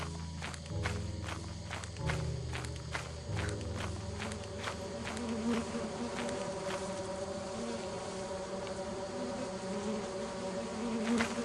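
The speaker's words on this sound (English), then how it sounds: "Oh my god, there's a beehive." Beehive buzzing in the video game Lethal Company: a continuous insect drone under a rapid series of sharp footsteps, moderately close, with no talking.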